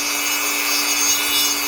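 A grinder working on plastic at medium pressure, a steady high whine with a constant tonal hum, close and unbroken throughout.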